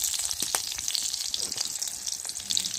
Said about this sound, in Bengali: এবার দিয়ে দেব তেল এরপর দিয়ে দিলাম কাঁচা লঙ্কা পাঁচফোড়ন